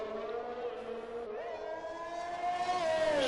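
A race car at full throttle along a straight in a sim racing game on the Baku street circuit, a steady engine whine climbing in pitch throughout, loud and close, with no talking.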